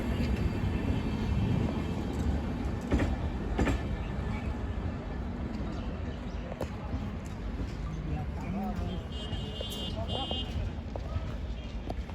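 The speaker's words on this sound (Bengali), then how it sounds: "এবং ট্রেন বেরিয়ে গেল এসএলআরটি সবার লাস্টে।" The Purulia–Anand Vihar Express pulls out of a station with its SLR coach at the rear, a steady rumble and clatter of wheels on rail, fairly faint, under crowd noise and voices of people talking nearby.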